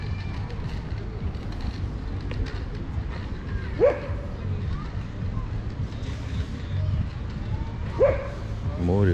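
A dog barks a couple of times at a distance on the Yalta seafront, separate yelps spaced apart over a low ambient hum with faint voices.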